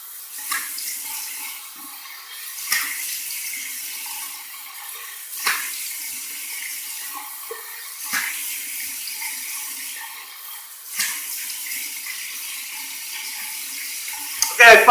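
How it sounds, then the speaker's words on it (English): Tap water runs steadily from a faucet into a sink while shave cream is rinsed off, a moderate continuous splashing with brief louder surges every few seconds. "Here we go, final rinse."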